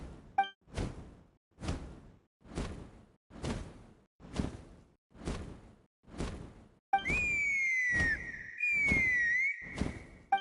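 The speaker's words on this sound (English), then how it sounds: "That sounded like a whistle." A sharp whistle rings out in Genshin Impact, a bright sliding tone repeated over a loud whooshing rush of wind after a series of rhythmic swooshes, with no talking.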